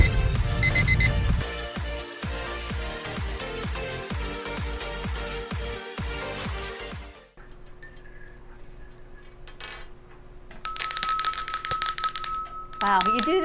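An alarm clock rings loudly in the last few seconds, a bright repeating tone that follows a busy rhythmic stretch and a quieter lull.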